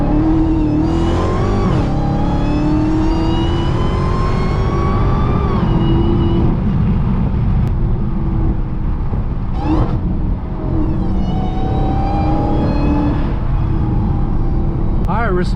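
A widebody Dodge Hellcat accelerates hard up a canyon road, its engine roaring loudly and steadily throughout, with a brief blow-off whoosh between gear pulls and voices talking over the noise.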